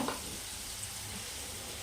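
Soft, steady sizzling of panch phoron whole spices frying in hot oil, close by and fairly quiet, with a small clatter at the start.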